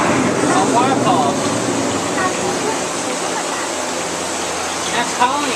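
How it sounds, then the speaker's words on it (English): Steady broadband rushing water from a waterfall in an Epcot attraction fills the whole stretch at a constant level, with faint voices and bird-like chirps mixed underneath. "A waterfall."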